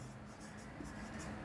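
A heading being written on a classroom board during a geography lesson: steady, faint scratchy strokes with soft repeated taps, continuing without pause and with no voice over them.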